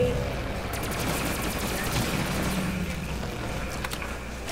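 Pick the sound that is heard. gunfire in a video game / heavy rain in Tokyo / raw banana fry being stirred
gunfire in a video game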